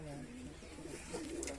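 A pigeon on a rooftop gives a few soft, low coos in quick succession against a faint outdoor background.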